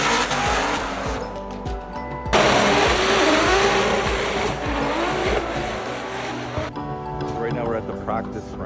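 Drift cars running tandem during practice at Formula Drift Long Beach, with loud sustained engine roar and tire squeal that surge and shift, then a sudden drop to a lighter engine note near the end, under someone talking.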